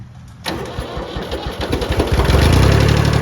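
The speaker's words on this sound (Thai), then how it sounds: "เดี๋ยวสตาร์ทให้ดูคันเร่งลงหน่อย ก็ติดเลย" A Kubota L2201 tractor fitted with a front dozer blade, its engine worn with leaking valves, cranks and fires within half a second, then settles into a loud, steady, rumbling idle that builds slightly toward the end.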